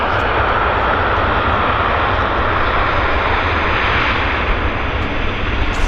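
Airliner taking off from a wet Vancouver Airport runway, a loud, steady engine roar with a heavy low rumble and broad hiss that holds unbroken throughout.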